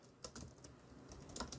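Quiet, close typing on a computer keyboard while writing a comment in Trello, a few irregular key taps over about a second and a half.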